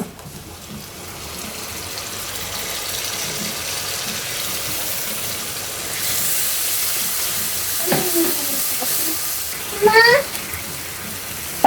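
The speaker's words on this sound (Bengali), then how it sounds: "এতে পেঁয়াজ রসুন বাটা আদা বাটা একসাথে আর হচ্ছে কাঁচা লঙ্কা দিয়ে দিব" Onion, garlic and ginger paste with green chillies hitting hot oil in a pan for a pointed gourd korma: a steady broad hiss that swells into a louder sizzle partway through, with a few faint clinks near the end.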